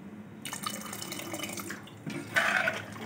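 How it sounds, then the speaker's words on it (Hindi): Water splashes and trickles into a cooking pot of khichda. The pour is quiet and close, with a louder gush near the end. "इसमें थोड़ा पानी और डाल देते हैं"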